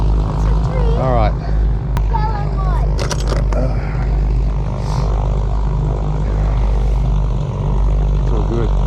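A private propeller plane's engine runs at an airport gate, a loud steady droning hum with a low rumble, mixed with occasional clicks and chirps nearby.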